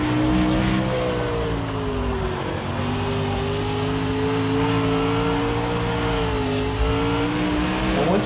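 Dirt late model race car engine in the iRacing sim, revving steadily for the whole stretch, its rising and falling pitch smooth and loud with no talking over it.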